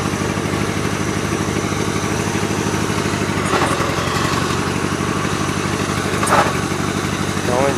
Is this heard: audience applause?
no